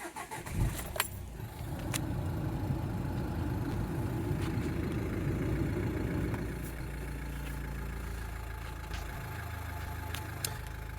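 A key jingles, then a car engine cranks and catches, settling into a steady, rumbling idle close by.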